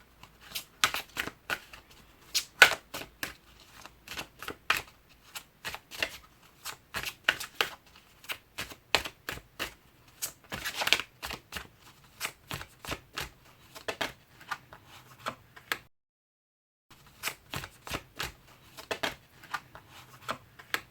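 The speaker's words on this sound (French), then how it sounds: "on va voir avec une petite carte de l'oracle d'Amam" Oracle cards are shuffled by hand in long runs of quick crisp riffling and slapping, close and fairly loud, pausing briefly before resuming.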